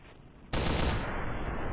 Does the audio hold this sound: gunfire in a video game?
yes